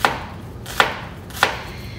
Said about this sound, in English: And then you just come right across it and see how they end up in nice little diced shapes.